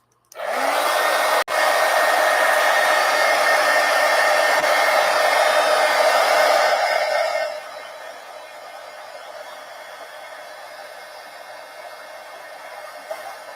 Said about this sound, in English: Get the heat gun. Let's dry this.